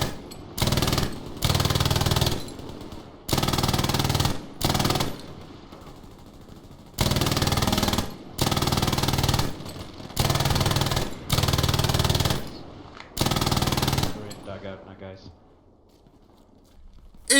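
Bursts of light machine gun fire from an LMG in the video game Hell Let Loose, aimed at a wall, come in repeated loud sustained strings of rapid shots with short pauses between them, ending in quieter trailing echoes.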